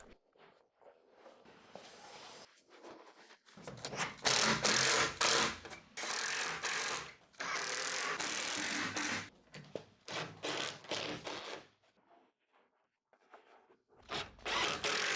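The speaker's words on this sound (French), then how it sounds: "Puis fixez-les solidement à l'aide des vis d'assemblage en utilisant la clé ZCP et un tournevis." Assembly screws are driven into a furniture unit with a screwdriver: bursts of ratcheting, grinding turns of several seconds each, separated by quiet pauses, close and fairly loud with no speech.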